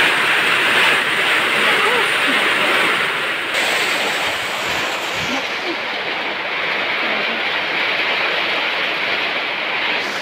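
Strong typhoon wind and heavy rain in the Philippines rush as a steady, loud, broadband roar throughout, with gusting surges and a drop in intensity partway through.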